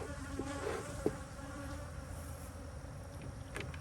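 A dense, continuous drone of many honey bees with Caucasian queens buzzing close by, steady and unbroken throughout.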